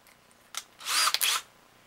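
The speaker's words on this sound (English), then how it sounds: "I'm going to go ahead and drill the trigger hole." A 1/8 inch drill bit bores a trigger hole in a SnapBow plunger tube, giving a short tap followed by a half-second burst of high whining drilling that stops abruptly, close and alone.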